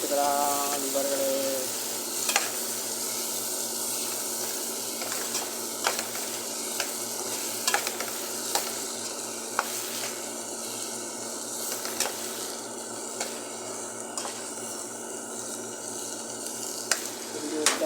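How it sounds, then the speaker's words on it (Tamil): Bitter gourd and onions sizzle steadily in a hot pan while a spoon stirs and scrapes, giving intermittent clicks and taps over an even frying hiss, close and moderately loud. "இப்போ பாவக்காய் போட்டுக்கலாம் நல்லா வதங்கிடுச்சு பாவக்காய் போட்டுக்கலாம் அதையும் கொஞ்சம் கிண்டி"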